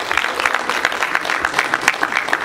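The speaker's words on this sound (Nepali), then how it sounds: "यात्रा टिमको तर्फबाट जोरदार ताली सबै उपस्थित व्यक्तिको लागि" Applause at a Nepali film trailer launch for the movie Yatra: a crowd claps for a couple of seconds, with individual claps standing out in a fairly quick, uneven rhythm, close and moderately loud.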